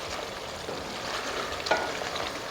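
A tomato puree gravy sautés in oil for mutton karahi, giving a steady close sizzle and crackle with a soft stirring scrape partway through.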